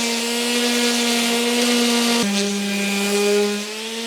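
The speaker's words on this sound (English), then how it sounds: "I brought the sander, and we can start sanding away at the new trim pieces" A power sander runs on new wooden trim pieces for a small sailboat, giving a steady, close motor whine with a brief dip in pitch midway, then continuing before easing slightly at the end.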